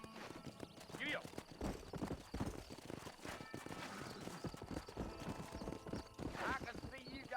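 Horse hooves clip-clopping in the video game Red Dead Redemption, a steady trot of rapid hoofbeats under ongoing character dialogue, with a whinny breaking through.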